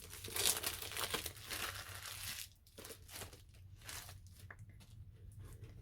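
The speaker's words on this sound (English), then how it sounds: "Let's get this plastic off." Plastic wrap is pulled off a chocolate subscription box, giving close, crinkly tearing and crumpling that is loudest at first and then continues as softer rustles.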